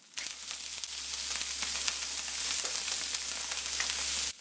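Garlic and preserved radish (cai po) sizzle in a hot pan alongside fried carrot cake, a loud, continuous frying hiss with scattered crackles and pops and no voices.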